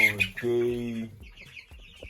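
Two-week-old broiler chickens give a few close, clear peeping clucks, alone and fairly loud over a short moment.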